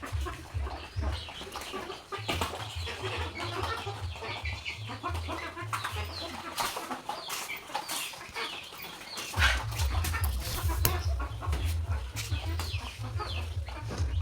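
A hen clucking on a farm just after laying an egg, repeated clucks and cackles close by over a steady low hum, with a pause in the hum partway through.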